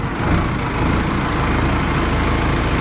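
An Arjun Ultra 605 tractor engine runs steadily while the tractor turns, a loud continuous low rumble with broad noise and no breaks.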